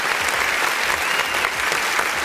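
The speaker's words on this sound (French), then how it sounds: "Nous applaudissons." A dense burst of audience applause at a stage comedy show, loud and sustained for a couple of seconds with many hands clapping at once.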